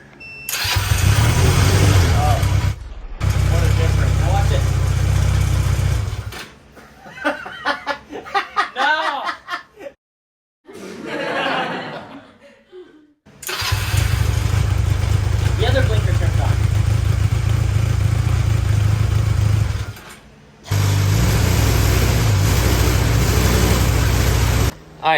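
A go-kart engine cranks and catches, running loudly in bursts that stop and restart, with people laughing and chattering during the quiet gaps.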